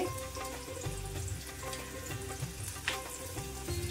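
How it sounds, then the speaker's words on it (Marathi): Chopped onion fries in hot oil in a home kitchen pan for a misal pav recipe, giving a continuous soft sizzle with light stirring scrapes throughout. "तोपर्यंत आपलं तेल पण गरम झालं। इथे मी आधी कांदा टाकून घेते।"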